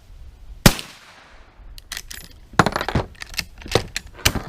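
A 30-30 Winchester Trapper lever-action rifle fires several sharp, loud shots at an outdoor shooting range, one strong report followed by a quicker run of cracks with short gaps.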